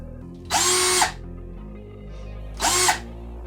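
An Einhell TE-CD 18/40 Li cordless screwdriver whirs on its first speed setting in two short bursts with a pause between, a steady motor hum rising and settling each time, fairly close.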